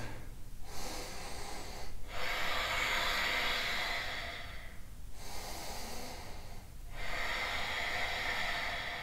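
Deep, slow breaths during a strong vinyasa yoga flow, with four long nasal inhale-exhale cycles heard close and clear and no talk.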